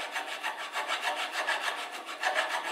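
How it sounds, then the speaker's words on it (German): Hand file rasping back and forth across a metal kickstarter stop on a Zündapp RS 50 moped, steady rhythmic strokes, close and fairly quiet, with no talking. "ich habe die Kickstarter jetzt abgebaut und gehe jetzt mal bei und feile diesen Anschlag weg."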